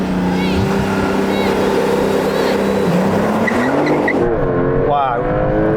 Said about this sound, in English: Let's get into the drag racing